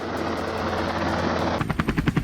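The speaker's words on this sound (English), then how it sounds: "The roar of the chopper echoed across the sky" A helicopter passes overhead during a wild boar hunt, its rotor giving a steady pulsing drone, then sharp, rapid bursts of gunfire break out over it near the end. No one speaks.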